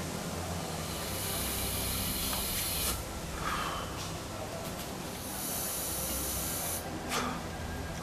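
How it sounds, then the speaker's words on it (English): Air hissing from a scuba tank valve being feathered through a sidemount low pressure hose with the second stage removed, a loud continuous spraying hiss broken by brief dips and surges as the valve is eased. "it means that you have to have careful control of the tank valve to make sure that you're not blasting the air too hard"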